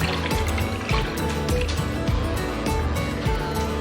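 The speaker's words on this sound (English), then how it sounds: "you want a full cup of cold brewed coffee to pour into the ice" Cold brewed coffee is poured into a cup full of ice, giving a steady, close liquid fill with clinking and crackling of ice throughout.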